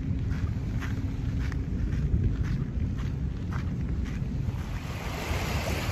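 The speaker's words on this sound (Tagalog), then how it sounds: "Lapit tayo din sa may dagat" Sea waves wash continuously along Manila Baywalk Dolomite Beach, a steady low roar mixed with heavy wind buffeting the microphone and no talking.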